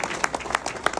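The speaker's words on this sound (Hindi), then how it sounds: "तालियां बजा दो भाई के लिए" Audience members at a religious gathering clap briefly, with a few distinct, fairly close hand claps over a low background murmur.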